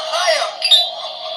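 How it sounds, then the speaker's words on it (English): A small battery-powered novelty cheers box plays a short, thin electronic sound with a tinny, buzzy tone, close and fairly faint, lasting just over a second. "See, this is my cheers box."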